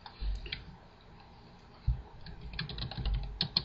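Typing on a computer keyboard into a browser's URL bar, scattered light clicks in short bursts with pauses between, close and quiet, no voice present.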